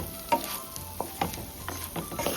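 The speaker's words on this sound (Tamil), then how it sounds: "கத்திரிக்காய் நல்லா வதக்கியாச்சு" Brinjal (eggplant) pieces sautéing in a pan while being stirred, giving a soft steady sizzle broken by a few scraping clinks of the spoon against the pan.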